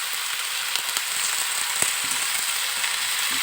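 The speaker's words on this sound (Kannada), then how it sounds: "ಇವಾಗ ಇದು ಬೇಗ ಫ್ರೈ ಆಗಲಿ ಅಂತ ಸ್ವಲ್ಪ ಹಾಕ್ತಾಯಿದ್ದೀನಿ ಉಪ್ಪು." Cauliflower with salt fries in a pan for a pepper fry, a continuous bright sizzle with small crackles and pops scattered throughout, close and fairly loud with no voices.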